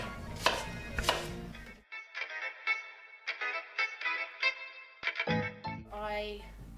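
Knife chopping food on a cutting board, a few sharp close knocks at the start followed by quieter rhythmic cutting under someone talking.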